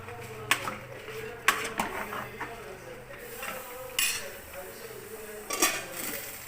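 A metal spoon scraping and clinking against a cooking pot while stirring country chicken curry, with several irregular knocks up close and a faint voice in the background.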